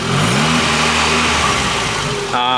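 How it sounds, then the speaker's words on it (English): A 1990 Mazda Miata engine runs close by, a steady mid-pitched hum with harmonic tones that shift slightly as it revs, continuing loud throughout, with a brief change near the end. "On the last video, we got this car running."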